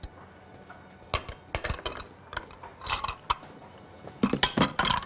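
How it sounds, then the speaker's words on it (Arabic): A whisk clinks and rattles against a bowl in uneven bursts while molasses, honey and oil are beaten together for a chocolate ginger cake, quiet between the sharp metallic strokes. "والعسل الاسود، هنضربهم مع بعض، وبعدين وهما بيتضربوا هنحط الزيت معاهم"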